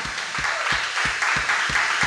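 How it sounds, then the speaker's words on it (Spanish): A church congregation applauds together in steady, loud clapping, with a regular rhythmic beat running underneath. "Vamos a darle un fuerte aplauso al Señor."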